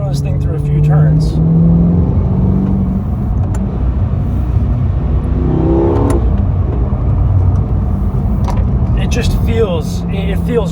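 Chevrolet C8 Corvette 70th Anniversary Edition driven hard through a few turns, a loud, steady engine drone rising and falling in pitch with a brief rev surge midway, close and continuous, with a voice talking over part of it.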